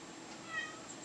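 A house cat meows faintly and briefly indoors, a single soft call against a quiet room background.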